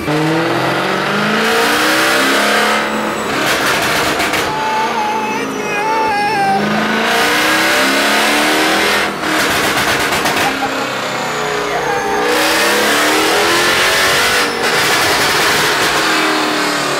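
A Mercedes C63 AMG engine with a pops-and-bangs tune revs hard in repeated long pulls on a dyno, climbing and dropping in pitch with crackling bursts between, very loud and close, some voices underneath.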